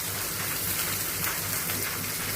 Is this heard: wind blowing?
no